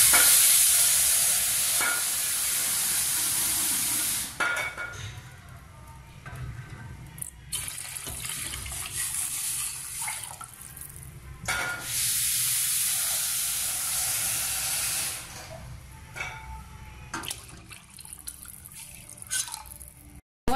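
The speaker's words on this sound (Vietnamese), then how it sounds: "cho nước vào và đun sôi nước" Water pours loudly into a pot for a crab hotpot in two long rushing bursts, separated by quieter stretches of trickling, dripping and light clatter.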